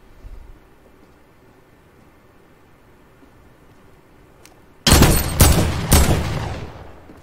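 Gunfire in the video game Fortnite: after a near-silent stretch, three loud, sharp shots ring out close by, about half a second apart, each trailing into a short fading echo.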